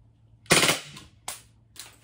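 Glock-style BB pistol fitted with an extended magazine fires three sharp, close pops, a loud first shot followed by two quicker, fainter ones, with quiet gaps between.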